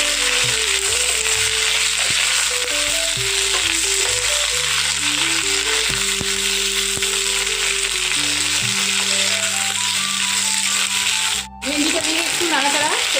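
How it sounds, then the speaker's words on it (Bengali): Whole okra, slit at the ends, frying with potatoes in a pan as they are stirred together, making a steady, fairly loud sizzle with a tonal melody playing underneath and a brief dropout near the end. "ভেন্ডিটা দিয়ে এবার একটু নাড়াচাড়া করে দেবো আবার আলুর সাথে"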